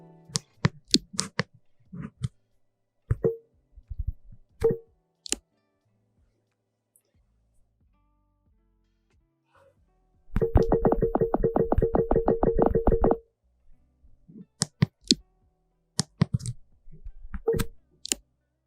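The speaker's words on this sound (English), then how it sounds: "you'll likely enjoy the softer, almost blunted Android 16 QPR1 system sounds" Android 16 QPR1 system notification sounds, soft and rounded: a series of short separate tones at uneven intervals, then a rapid ticking burst for about three seconds, then more brief tones, all alone with silence in between.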